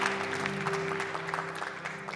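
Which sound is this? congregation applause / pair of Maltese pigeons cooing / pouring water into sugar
congregation applause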